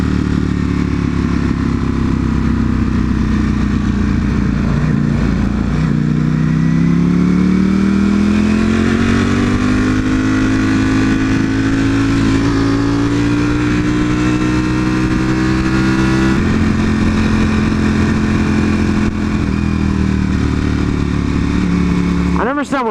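An Aston Martin with a biturbo V8 drives along in a loud, continuous engine drone, its pitch rising and falling as it accelerates and eases off, with occupants talking over it.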